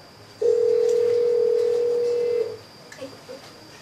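Steady dial tone from a Cisco tablet phone as a call is placed, a single continuous tone holding for about two seconds before cutting off, followed by a few faint soft clicks.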